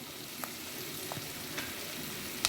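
A masala being fried in oil, a faint, even sizzle lasting a couple of seconds with a few light stirring taps and one sharper clink near the end.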